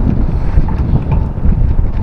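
A strong headwind blows hard against bike riders and roars steadily into the microphone as a loud, low buffeting rumble that never lets up, with no voices over it.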